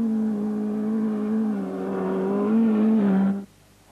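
A rally car's engine strains through desert sand on the 1984 Paris-Dakar, a steady, close, droning roar whose pitch climbs and wavers before cutting off abruptly near the end, leaving faint background noise.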